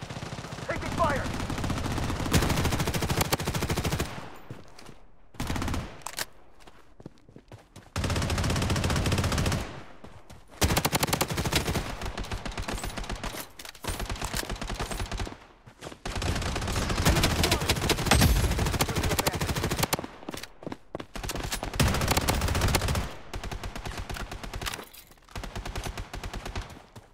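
Rapid automatic gunfire from the shooter video game Blood Strike, loud and close, arrives in dense repeated volleys with short silent gaps between bursts over a constant game backdrop.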